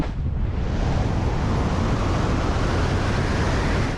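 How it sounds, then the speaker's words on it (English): A steady wind recording stands in for a rocket engine, a dense continuous roar that is loud and close, holding constant from start to finish with no voices. "but it's all just wind"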